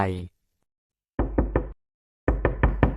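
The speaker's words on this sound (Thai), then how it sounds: "มีเสียงเคาะตอบกลับมาจริง" Knocking on an old basement door: three sharp raps, a pause, then four more, loud and close, with a brief voice-like tone at the start.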